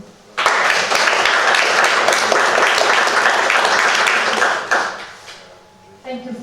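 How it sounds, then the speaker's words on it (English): An audience at a London panel discussion breaks into loud, dense applause for a speaker, sustained for about four seconds before fading, followed by a brief voice. "Please give a huge round of applause for Mona."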